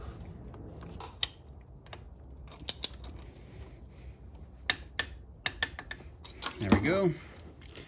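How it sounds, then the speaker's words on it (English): A torque wrench tightening bolts on an EK Hatch engine makes sparse, sharp metallic clicks at irregular intervals in a quiet workshop, and someone speaks briefly near the end. "I'm gonna set the torque wrench to about 45 pounds first."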